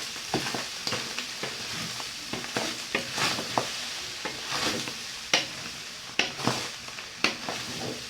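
Fish fried rice is tossed and stirred in a hot pan with a steady sizzle, while a spatula scrapes and clacks against the metal in repeated irregular strokes, close and fairly quiet.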